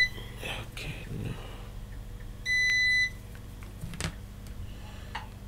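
Multimeter beeping while probing a circuit during an ASUS K55VD laptop repair, one clear half-second tone amid quiet handling sounds and faint murmured talk.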